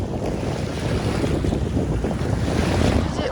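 Waves and steady wind roll along the Sea of Azov shore, a continuous loud rush of surf and wind buffeting the microphone with no talk.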